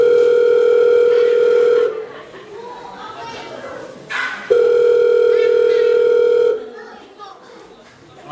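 A Brazilian telephone's ringback tone for an unanswered call sounds in two long steady beeps separated by a pause, with children and adults chattering in the background between the tones.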